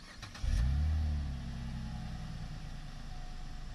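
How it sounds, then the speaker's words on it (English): A 2015 Cadillac SRX's exhaust heard from behind the car: a sudden close, loud rev swells into a deep rumble, then eases back to a steady idle, with no voices. "we're gonna do the exhaust note back here so we can give you a sound of it"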